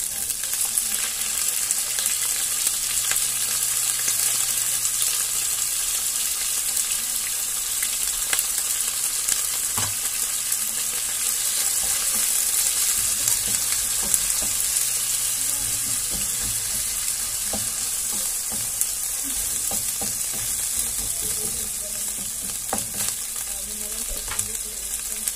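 Pork fries in a pan for pancit canton, a steady, fairly loud sizzle with occasional stirring scrapes and crackles, close up and continuous throughout.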